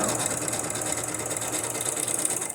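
Sewing machine stitching paper strips for a junk journal, a steady fast mechanical whir and clatter running continuously and close throughout, with no talk.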